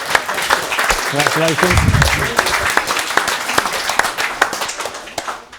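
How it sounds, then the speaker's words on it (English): A round of applause at a QPR fans forum, steady clapping from a small audience, with someone speaking briefly over it near the start. "Round of applause for Dennis."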